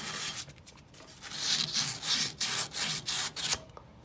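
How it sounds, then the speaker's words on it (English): Short back-and-forth strokes of 300 grit sandpaper rubbing a ball joint mount on an Opel GT during a ball joint and brake replacement, a close rhythmic scratching that comes in bursts with brief pauses and no talking. "Tore me off a piece of 300 grit sandpaper."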